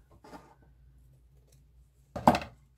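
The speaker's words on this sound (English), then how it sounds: "So let me cut that off." Scissors snipping through dotted Swiss fabric for a no-sew junk journal, a faint early cut followed by one louder, close crisp snip near the end in a quiet room.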